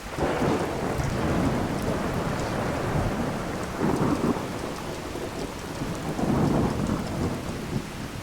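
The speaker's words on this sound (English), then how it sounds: "you can hear the rain while you're inside still" Steady heavy rain pours throughout in Skyrim, heard from indoors, while low rumbles of thunder swell and fade a few times in the background, with no voices.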